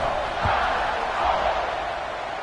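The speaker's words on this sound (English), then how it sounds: "They're set to kick it off, and this crowd now ready to get behind them." A football stadium crowd roars before a kickoff in a college football video game, a steady, broad wash of massed cheering that swells slightly midway, with a soft thud early on.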